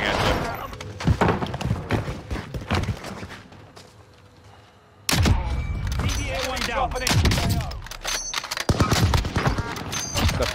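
Gunfire in the video game Call of Duty Warzone sounds as sharp repeated shots and bursts, with a brief quieter lull midway before the firing resumes. A voice talks over the shooting.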